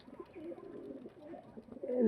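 A pigeon coos in a low, soft, warbling murmur, close and brief, with a louder call rising at the very end.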